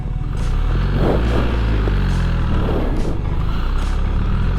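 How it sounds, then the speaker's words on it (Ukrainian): A BMW R 1300 GS motorcycle engine idles close by with a low, uneven rattling rumble, steady throughout with a few slight throttle swells. "Інше звучання двигуна зовсім. Торохтить по-іншому."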